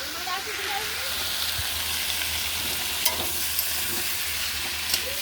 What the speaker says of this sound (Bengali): আমি রান্না করছি এখানে এই যে শাক দেখেছিলাম বাগানে, লোটে শাক আলু দিয়ে একটা চচ্চড়ি বানাবো